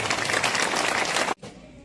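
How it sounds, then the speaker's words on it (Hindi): Crowd applause at a political rally in Hathin, dense loud clapping sustained throughout before cutting off abruptly, leaving a faint room tail. "इनके लिए जोरदार तालियां।"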